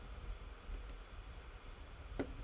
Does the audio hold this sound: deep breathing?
no